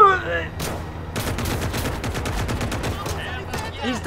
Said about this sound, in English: Get the machine gun out!